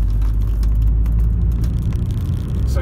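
A high-mileage Volvo S80 executive saloon drives with a steady low engine and road rumble, loud and close, holding an even pace with slight variation and no talking.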